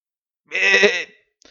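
A single sheep bleats loudly and close by, one sustained wavering cry of about half a second, followed by a brief faint rustle.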